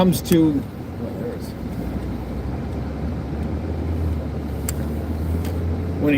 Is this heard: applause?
no